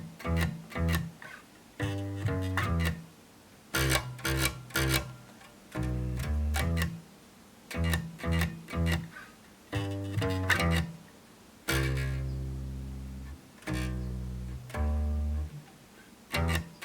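An electric bass guitar plays a line in short, punchy phrases of plucked low notes, separated by brief rests and gaps, close and clean with no talking.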